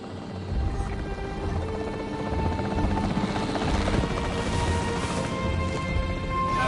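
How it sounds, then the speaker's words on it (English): The capture team helicopter in the video game Jurassic World Evolution 3 holds a steady, loud rotor chop and engine roar, swelling slightly midway, with faint thuds in the mix. "The priority needs to be tranquilizing it with the capture team chopper."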